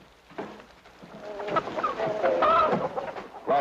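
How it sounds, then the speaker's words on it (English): A chicken clucks in a series of short, irregular calls that grow louder and busier, with no speech. "what do you think you're doing with that chicken?"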